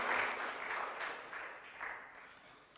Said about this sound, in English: Please give a full round of applause